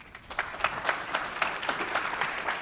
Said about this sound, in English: So please give the Michaels a warm round of applause.